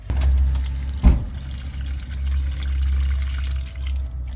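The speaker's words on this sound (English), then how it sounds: "I'm going to give them a good root soak, but I'm giving them a tomato feed" Water mixed with tomato feed and Epsom salts is poured over potted plants to soak the roots, a steady low splashing flow with one brief louder splash early on and no talking.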